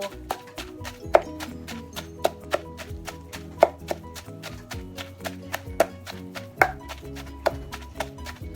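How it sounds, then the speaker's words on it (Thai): Fish pounded finely in a mortar with a pestle for Thai steamed seafood, a steady series of dull thuds with sharper knocks mixed in, close and fairly quiet. "จะตำปลาละเอียด"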